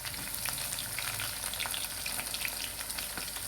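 Three large chopped onions frying in oil in a pan for chicken korma, a dense, steady crackling sizzle with occasional stirring, fairly quiet and without speech.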